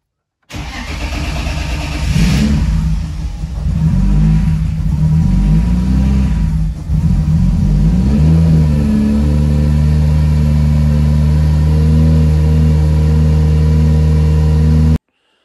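A BMW E30 engine cranks and fires after repair, catching with a few uneven revs before settling into a steady, loud idle close by.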